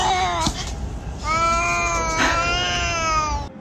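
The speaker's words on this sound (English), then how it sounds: "This is not my cat." A cat meows loudly and insistently, a short cry followed by a long, drawn-out wail that nearly fills the moment, close to the listener with no talking over it.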